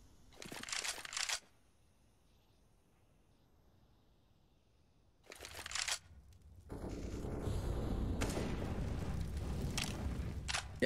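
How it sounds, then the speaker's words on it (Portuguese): Gunfire in Counter-Strike on the Dust2 map, with short bursts of shots near the start and middle, followed by sustained louder firing and in-game noise over quiet gaps. "aqui os tiros rolando"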